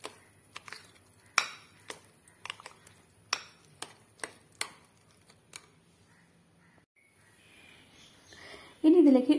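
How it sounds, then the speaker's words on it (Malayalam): A spoon clinks and taps sharply against a bowl at irregular intervals while maida batter for an egg snack is stirred, mostly quiet between strikes, before a voice speaks near the end. "ഇത് നന്നായിട്ട് ഇളക്കി യോജിപ്പിച്ചെടുക്കാം."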